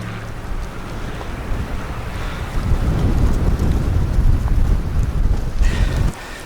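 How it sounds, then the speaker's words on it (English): Strong wind roars in steady gusts during a heavy February snowstorm outdoors, a dense low rumbling buffeting that swells midway and drops off near the end. "So the snow is coming down in force now, and the wind is picking up too."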